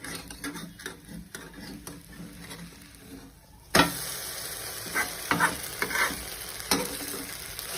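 Handvo batter cooking covered in a pan over low gas, a soft steady sizzle with faint stirring clicks, quieter at first and then a louder, brighter frying hiss with small pops after the lid comes off.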